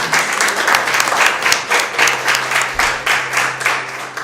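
A church congregation breaks into loud, sustained applause, with clapping that pulses in rhythmic waves and a low hum of crowd voices beneath.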